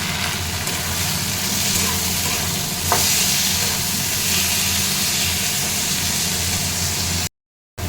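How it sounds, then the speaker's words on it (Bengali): Chopped tomatoes go into a pan of lightly browned onions and fry with a loud, steady sizzle and hiss. One sharp stirring clack comes partway through, and the sound cuts out briefly near the end. "এবার আমি টমেটোটা দিয়ে দেবো।"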